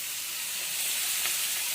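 Onion and green chilli paste fries in a pan with a steady, close, crackling sizzle that stays even for its short duration.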